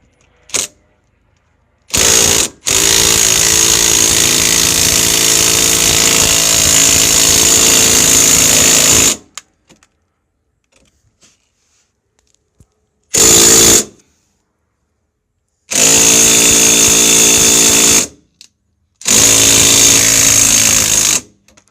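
A power tool, likely an impact wrench, spins off a 21mm nut on a Ford Taurus rear strut, running in several loud, sustained bursts of a few seconds each, separated by silent pauses.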